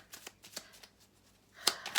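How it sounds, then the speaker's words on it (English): A deck of playing cards gets a quick shuffle, soft riffling flutters ending in two crisp, louder riffle bursts near the close. "We'll just give this a quick little shuffle."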